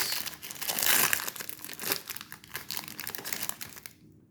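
A vintage 1991-92 Pro Set Football League card pack wrapper is torn and crinkled open, close, busy crackly plastic rustling that peaks early then trails off into silence, no talk.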